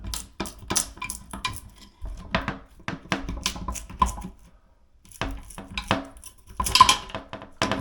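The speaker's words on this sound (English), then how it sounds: "I'm gonna pry under this a little bit and try not to crack the bowl" A raised toilet seat being pried off a porcelain bowl, stuck with double-sided tape and hardened cleaning residue, giving irregular close clicks, knocks and scraping creaks in short bursts with brief pauses.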